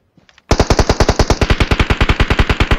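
Automatic rifle fire in the battle royale game PUBG Mobile: a few faint taps, then a loud, rapid burst of evenly spaced shots rattling nonstop for over two seconds, with no talk.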